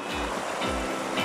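Continuous rushing water roars up close at a small waterfall, a dense, steady wash of sound like a waterfall pouring.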